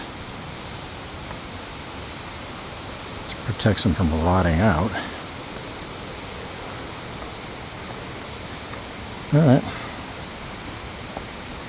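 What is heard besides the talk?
waterfall in the background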